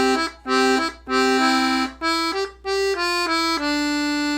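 A 48 bass accordion plays a short melodic phrase of the Dreydl song, a reedy series of sustained notes walking down with soft breaks between bellows-driven tones, close and clear with no talking.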